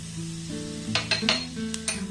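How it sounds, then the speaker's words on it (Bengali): Whole cumin and nigella seeds hiss and crackle as they sizzle in hot oil. Brief clinks of a stirring utensil against the pan sit over a steady background tone, with no talking. "আমি একটু তেল নিয়ে তেলটাকে খুব ভালোভাবে গরম করে নিয়েছি এর মধ্যে দিয়ে দেবো গোটা জিরে কালো জিরে"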